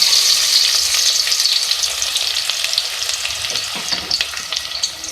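Two medium onions fry in hot oil for a chicken and potato shorba, a dense, steady sizzle with no talking, close and loud, easing slightly toward the end.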